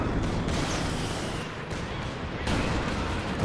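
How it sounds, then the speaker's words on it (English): Artillery barrages in the World War II strategy game Company of Heroes 2 during a large 4v4 match, heard as a dense, continuous rumble of distant shell impacts and gunfire, with swells near the start and again after midway. "Some artillery coming down."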